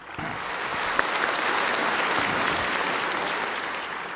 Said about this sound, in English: A nice round of applause for him.